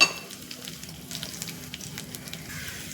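Peanuts and cashews frying in hot oil for a tempering for orange (narinja) pulihora, a soft, steady crackling sizzle with small pops, close and quiet, with no voices over it.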